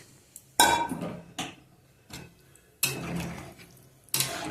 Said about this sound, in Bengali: এবার আমি জল অ্যাড করে দিচ্ছি।